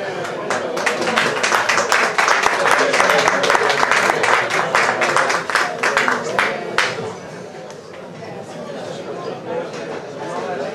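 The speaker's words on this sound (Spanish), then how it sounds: "Un fuerte aplauso." Applause at a poetry reading honouring Lorca during an art exhibition, a room of people clapping loudly for several seconds before it thins and fades, with chatter and voices continuing underneath.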